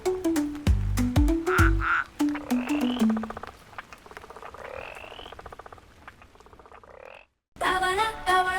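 Cartoon-style frog croaks from a pond-themed children's rhyme: a string of loud, deep, rhythmic croaks followed by higher warbling calls and a brief pause, with no speech.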